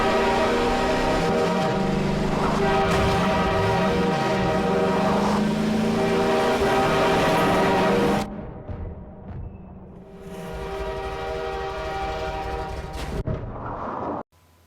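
A train rumbles past in the Half-Life 2 game world, a loud sustained low roar with steady harmonic tones that drops off sharply partway through, leaving a quieter mechanical hum before cutting out.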